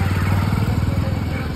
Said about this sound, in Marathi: आणि आपली रिक्षा पण आली.